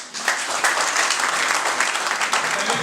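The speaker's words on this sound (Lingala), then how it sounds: "Je voulais que la salle puisse acclamer pour notre maman" A hall audience applauds steadily and loudly throughout, a dense wash of clapping honoring a mother at a Congolese gathering, with no pauses.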